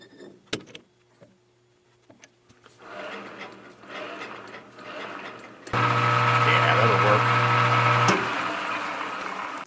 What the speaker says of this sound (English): So let's go back over to the lathe.